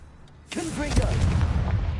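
A fiery explosive spell bursts in the Hogwarts Legacy video game, a sudden loud boom followed by a sustained rumbling blast, with a voice speaking over the start.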